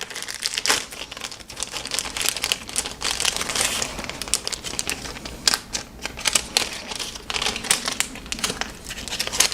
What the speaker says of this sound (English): I'm just going to cut open the packet here and look at the decals.